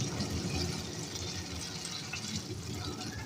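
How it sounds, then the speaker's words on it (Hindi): A cup of water poured into a pan of browned chicken for chicken masala curry, a soft continuous splashing and gurgling fill lasting a few seconds, faint and close. "अब मैं डाल रही हूँ इसमें 1 कप पानी।"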